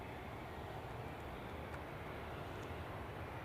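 An easyJet airliner on final approach at Edinburgh airport produces a steady, faint broadband engine rumble that stays even and distant for the whole stretch, with no voices.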